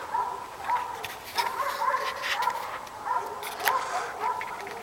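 Several dogs bark outside near a house under construction, sharp barks repeating roughly every half second, moderately close and overlapping into a steady yapping chorus.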